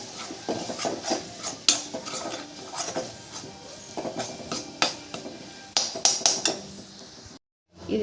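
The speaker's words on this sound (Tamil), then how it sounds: "அதை நல்லா மிக்ஸ் பண்ணி கொடுத்துக்கலாம்." Spice masala with coriander powder is stirred in a cooking pan for a paneer dish, with a steady scraping of a spoon against metal and several sharper clinks near the end.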